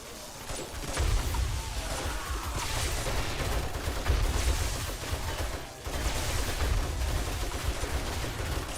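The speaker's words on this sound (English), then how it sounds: "I'll just shoot the zombies." Dense, continuous gunfire from players shooting a swarming zombie horde attacking a base in the survival game 7 Days to Die, a steady loud barrage with heavy low booms throughout.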